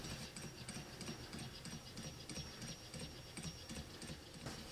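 A small low temperature differential Stirling engine runs at its top speed, giving a faint, steady mechanical ticking and rubbing rhythm, quiet and close, with no talk.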